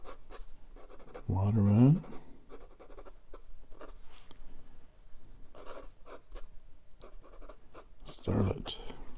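A 1940s Waterman Starlet fountain pen with a flexible 14 karat gold 2A nib scratches across paper in short strokes, one louder burst near the start and another near the end, while someone speaks quietly between them.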